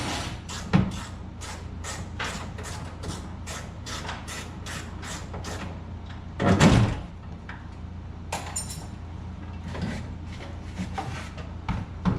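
The door of a 1953 Ford F-350 truck shuts with one loud, close metallic thud amid scattered lighter clicks and clatter of handling.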